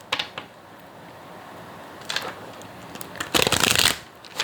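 A deck of tarot cards is shuffled by hand in short riffling bursts, close by, with a long crisp flurry near the end over a quiet room background.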